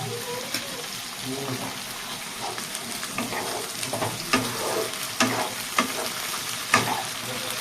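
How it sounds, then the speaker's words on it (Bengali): Ginger, garlic and cumin paste frying with potatoes in a pan for a spicy katla fish tail curry, a steady sizzle with scattered scraping stir strokes and small clatters throughout. "আমি ভালো করে আলুর সাথে কষিয়ে নেব।"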